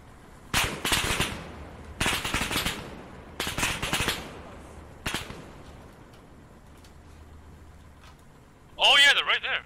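Gunfire in the ARMA 3 military simulation: sharp, loud bursts of shots come in several separate volleys, with a quiet gap before a final burst, while players talk over the action.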